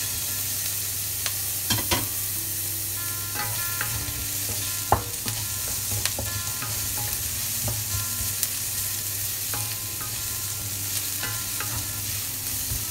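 Garlic and ginger frying in a pan, a steady close sizzle with occasional sharp clicks and scrapes of stirring throughout, no voices.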